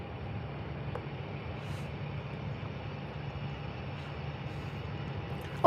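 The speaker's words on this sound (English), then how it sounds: "Looks like we got Jet2 A321 out next." A Jet2 Airbus A321 at Birmingham Airport gives off a low, steady engine rumble and drone from a distance, even in level and unbroken, with a faint click near the end.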